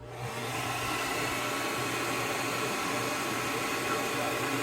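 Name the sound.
heat gun blowing hot air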